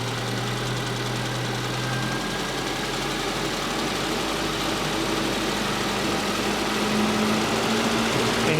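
Small Mini car engine running steadily and being revved gently while its fuel mixture is tuned, a continuous close mechanical drone with a slight pitch shift partway through.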